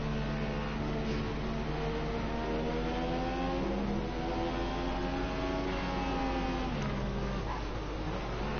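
An F1 race car in a video game runs a lap of Silverstone, its engine note loud and steady, climbing and falling through gear changes as it accelerates, then dropping sharply near the end.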